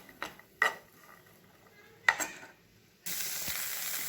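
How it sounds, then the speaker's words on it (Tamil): Onions being lightly sautéed in a little oil in a pan: a few sharp clinks and scrapes of a spatula against the pan, a quiet stretch, then a sudden loud, steady sizzle to the end. "ஒரு பேனில் லைட்டாக எண்ணெய் விட்டுக்கோங்க. இந்த வெங்காயம் வந்து ரொம்ப ராவாக இருந்தால் நல்லா இருக்காது. நல்லா லைட்டாக சும்மா வதக்கிப்போம்."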